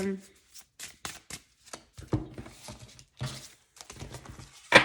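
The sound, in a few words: tarot cards being shuffled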